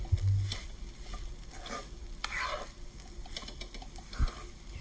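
Ghee or butter for sabudana khichdi sizzles in a pan with soft frying crackle and stirring scrapes, a thump early on and another near the end, no voices present.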